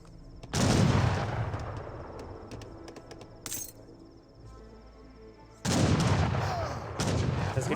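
Musket volleys in Age of Empires 3 come as two loud, dense crackling bursts of massed gunfire with a quieter spell of scattered battle sounds between them.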